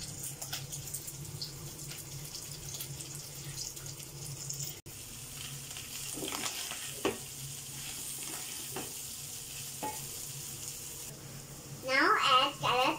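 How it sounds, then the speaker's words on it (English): Cabbage tossed and stir-fried with cooked chicken in a hot pan, a steady sizzle of frying running throughout with scattered scraping stir clatters, a brief dropout near the middle and a louder burst of clanking and splashing near the end. "First, we will add cabbage."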